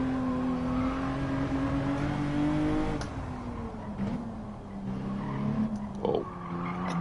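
Honda NSX sliding wide through a corner in Gran Turismo 7 at Autopolis, a steady engine drone with tire scrub running throughout, close and continuous with no talk.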